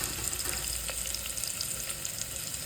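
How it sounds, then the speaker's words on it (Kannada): Onion sizzling in oil in a pan while frying for mutton biryani, a dense steady hiss with small crackles, close and continuous without speech. "ಈಗ ಇದನ್ನು ಚೆನ್ನಾಗಿ ಫ್ರೈ ಮಾಡ್ಕೊಳ್ಳೋಣ. ಇದು ಬ್ರೌನ್ ಕಲರ್ ತಿರುಗೋವರೆಗೂ ಸ್ವಲ್ಪ ಎಣ್ಣೆಲೇ ಬೇಯಿಸೋಣ."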